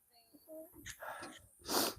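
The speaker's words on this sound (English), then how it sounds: "I think I sneezed on my son" A man sneezes once, loudly and close, after a brief run of soft voices and whimpering sounds, the sharp burst of breath ending the moment.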